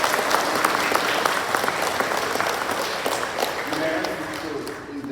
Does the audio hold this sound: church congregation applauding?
yes